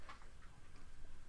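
A dog gnawing on a bone under a desk, producing a quick run of light, irregular ticking taps, faint and close, with no talk.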